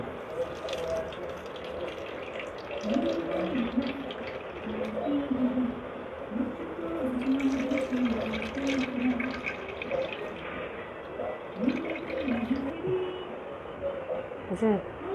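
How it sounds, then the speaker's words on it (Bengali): Juice being squeezed by hand from grated raw green mango, with wet dripping and trickling sounds running steadily, while a voice talks quietly in the background. "এখন এটা যেরকম করে চিপে চিপে রসটা বের করে নিব"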